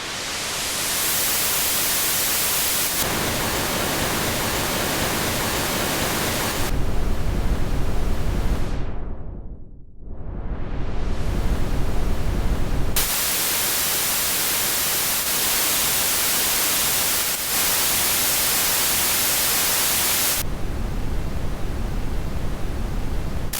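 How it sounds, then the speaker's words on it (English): Brown, red and white noise from the NoiseFace plugin by Jade Wii: a loud, steady wash of broadband static that switches abruptly between noise colours, with a filter sweep that narrows to a point and opens again midway. "It's got 12 different types of noise. So brown literally is brown noise."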